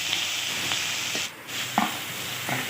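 Green chilli, ginger and garlic fry together in hot oil, a steady close sizzle with soft hiss, brief stirring scrapes and a short dip in the noise midway; no one speaks.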